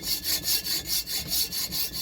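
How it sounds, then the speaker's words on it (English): A hacksaw cuts through a metal grip for a lead holder, making rhythmic back-and-forth rasping strokes, about seven even passes in quick succession, close and clear with no talking. "So I used a hacksaw to cut the grip into a triangular shape."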